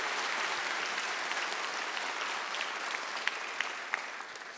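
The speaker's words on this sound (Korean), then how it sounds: "여러분 박수 한번 더" An audience at a public report event in Korea applauds steadily, a broad wash of many hands clapping at moderate distance, holding even with a few sharper claps near the end.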